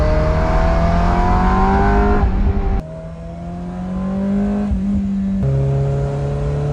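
A manual Ferrari 348 engine accelerates loudly, its pitch climbing steadily through the gears with two sharp shift breaks, heard from inside the car.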